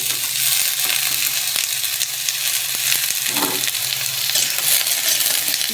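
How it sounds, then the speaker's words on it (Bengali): Potato and pointed gourd pieces frying in oil with browned onions, a constant close sizzle broken by scattered clicks and scrapes of a spatula stirring the pan. "দিয়ে তেলের সঙ্গে ভালো করে ভাজবো একটু।"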